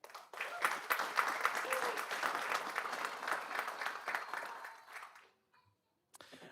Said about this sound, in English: Give Jared a big round of applause